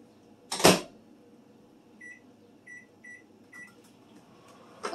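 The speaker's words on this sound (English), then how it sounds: "Put the rice into the microwave." A microwave oven heating a pouch of rice: a door thud, then a quiet hum broken by several short electronic beeps from the keypad, with another knock at the end.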